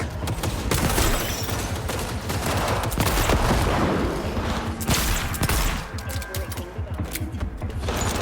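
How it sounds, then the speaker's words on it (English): Rapid automatic turret gunfire from a Cyberpunk 2077 firefight, loud dense bursts rattling continuously with brief lulls, set in a chaotic battle mix. "you guys want to play with turrets? Let's play with turrets."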